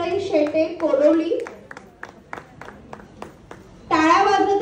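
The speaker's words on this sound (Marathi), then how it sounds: "टाळ्या वाजत राहिल्या पाहिजेत." Scattered hand clapping at an award ceremony, sharp individual claps ringing out between stretches of nearby talk at the start and end.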